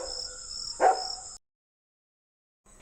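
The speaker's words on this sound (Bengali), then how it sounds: "দূরে কুকুর ডাকে।" A single short dog bark sounds at night over a steady high insect drone, then the sound cuts to silence before the drone briefly returns.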